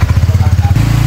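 Motorcycle engine running steadily on a mountain road trip, a low pulsing idle or slow ride close by with a slight shift in tone near the end.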